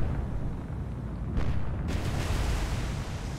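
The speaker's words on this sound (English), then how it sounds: "Now look at those big secondary explosions." Big secondary explosions aboard a stricken warship in the naval combat game War On The Sea, heard as a dense, continuous rumbling roar with a sharper burst about midway and another soon after, with no talk over it.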